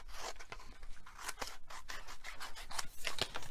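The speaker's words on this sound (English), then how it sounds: "So let me trim this down a little bit." Paper is trimmed on a worktable with a paper trimmer, giving a rapid run of close, crisp slicing and rubbing strokes with no one speaking.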